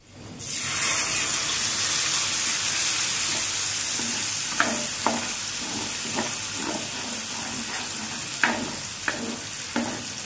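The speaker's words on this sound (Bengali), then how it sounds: "আলুটা একধারে রেখে আমরা টমেটোটাকে কষিয়ে নেব" Tomato paste sizzles steadily in a hot pan beside potatoes, with a continuous close frying hiss and repeated soft scrapes and knocks of a spoon stirring it.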